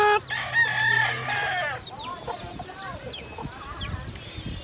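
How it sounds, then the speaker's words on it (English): Hen and baby chicks on a farm: a loud burst of crowing and clucking up front, then a busy chorus of high peeping chicks and soft clucks continues close by. "there's mama with all her baby chicks"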